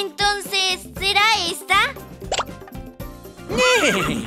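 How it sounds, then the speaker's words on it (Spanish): A cartoon horse neighing as a sound effect in a children's song game, rising whinnies between bursts of animated voices. "¡Ese era el sonido de un caballo veloz!"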